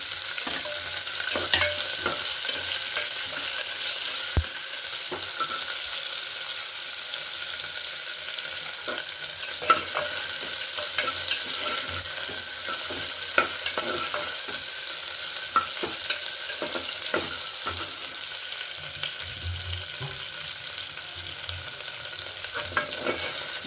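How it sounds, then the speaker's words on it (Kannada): Onion, curry leaves and green chilies fry in a pan for tomato rice, giving a steady, continuous sizzle broken by scattered clicks and stirring scrapes, with no voices. "ಇವಾಗ ಸ್ವಲ್ಪ ಈರುಳ್ಳಿ ಕರಿಬೇವು ಹಸಿಮೆಣಸಿನ್ಕಾಯಿ ಇವೆಲ್ಲ ಒಂದೇ ಟೈಮ್ ಹಾಕ್ಕೊಂಡ್ಬಿಡ್ತೀವಿ"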